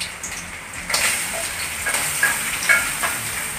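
Chopped onion frying in hot oil with ginger in a pan, a continuous close sizzle with small crackles and pops, no talking.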